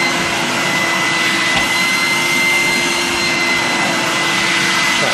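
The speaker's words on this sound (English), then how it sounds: "Never use a cylinder on thick carpet." A 1988 Numatic Henry HVR200 cylinder vacuum cleaner runs on thick carpet, giving a loud, steady motor whine and airflow roar that holds unchanged for the whole stretch, with no talking.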